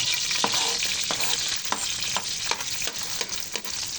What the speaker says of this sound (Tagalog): So yun, tumatisik na yung mantika